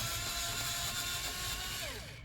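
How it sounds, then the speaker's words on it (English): A pencil sharpener grinds steadily through a pencil at close range, a continuous dense whirring buzz that holds throughout and fades slightly at the very end. "I have a pencil sharpener. You're going to hear it."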